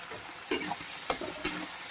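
A paste of tomato, turmeric and chili frying in a pan, a soft, steady sizzle broken by three brief stirring scrapes, close and moderately quiet.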